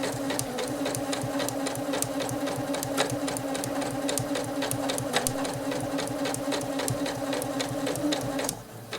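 A Janome 8077 sewing machine stitches steadily at close range, its motor humming with a rapid, even needle rhythm that runs for most of the span before cutting off near the end; no one talks.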